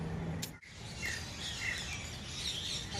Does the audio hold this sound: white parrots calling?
yes